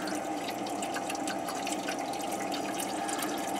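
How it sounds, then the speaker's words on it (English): Water pouring steadily into a Berkey water filter tank filled automatically by an Arduino-controlled setup in a kitchen, a continuous close splashing rush with faint drips and no talk. "Water's filling up."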